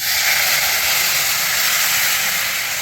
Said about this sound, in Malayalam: നമുക്ക് ഇതിലേക്ക് പുളിവെള്ളം ചേർത്ത് കൊടുക്കാം